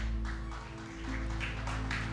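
Worshippers at a church service give a clap for themselves, producing a few soft, spaced claps over a constant low electrical hum, faint and somewhat distant.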